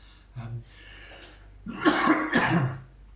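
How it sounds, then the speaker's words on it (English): A short cough, then a louder, harsher double cough close to the microphone, with quiet breathing in between. "I just coughed."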